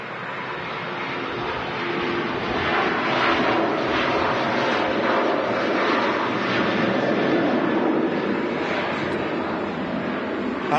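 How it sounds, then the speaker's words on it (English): A Singapore Airlines Airbus A350-900 taxis out at Manchester Airport, its engines giving a steady, broad roar that holds level and fairly loud throughout with no voices over it. "Singapore A350-900 on the taxi out"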